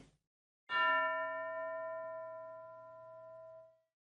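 A single bell strike rings out clearly, its bright metallic tone sustaining and slowly fading over about three seconds, with silence before it.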